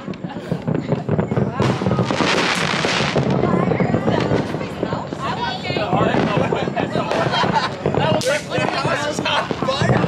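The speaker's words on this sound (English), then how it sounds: "How are you able to see fireworks in there?" Fourth of July fireworks crackle and pop in rapid, dense bursts, loud and continuous, with voices talking underneath the barrage.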